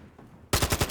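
Automatic gunfire in Call of Duty Modern Warfare II, a quiet lull then a sudden loud burst of rapid rounds, about five sharp shots in quick succession, close and alone with no talk.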